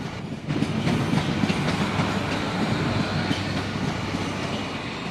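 Train rolling along rails near Sirkeci station in Istanbul, a steady broad rumble with soft rhythmic clatter that holds loud and constant throughout, with no voices.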